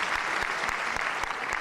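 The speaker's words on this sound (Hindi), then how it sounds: "मेरी तरफ से इन लोगों के लिए अगर तालियां बजा दीजिए" An audience applauds at a tribute concert honouring singer Mahendra Kapoor, a dense, steady burst of clapping from a large crowd heard close and alone, with a few sharper claps standing out.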